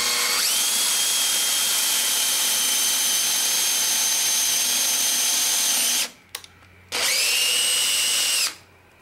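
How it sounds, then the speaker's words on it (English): Loud, high-pitched drill boring a central hole in plywood, running continuously for six seconds, cutting out briefly, then spinning up again for a shorter burst. "Use a 3x8 drill bit for the central hole."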